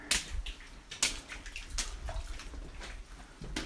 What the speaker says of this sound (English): A lot more water down here, all over here.